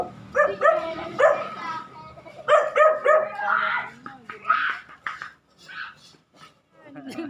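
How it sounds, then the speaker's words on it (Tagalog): An angry dog barks repeatedly outdoors on a Sierra Madre mountain hike, loud and close with growly yips and whimpers, while people talk nearby. "Ayan, nagagalit yung aso guys."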